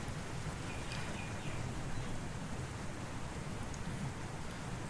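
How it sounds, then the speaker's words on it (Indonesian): Rain and floodwater ambience used as an effect in an augmented-reality flood app: a dense, even hiss of heavy rain with a faint low rumble, steady and unbroken, no talk. "Ketika pengguna berada di lokasi banjir, maka suara hujan, suara banjir itu akan terdengar."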